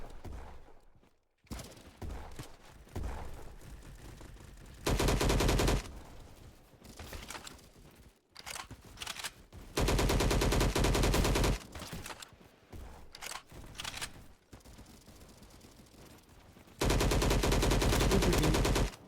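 Light machine gun bursts from the LMGX in the Roblox shooter Bad Business, loud sustained automatic fire in three long bursts, with shorter scattered shots and quieter gaps in between.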